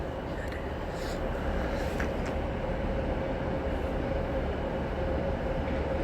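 Class 397 electric unit 397011 rumbles through Carlisle station, a loud continuous roar of wheels and motors with a faint whine, steady and near throughout, no talking.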